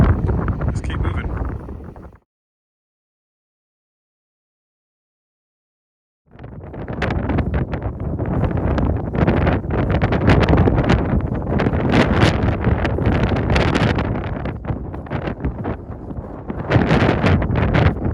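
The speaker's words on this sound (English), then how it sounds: "It's a little bit windy" Strong wind gusting across an open microphone beside a river on a rough, muddy hillside in the Peak District, loud and continuous with a brief silent gap early on.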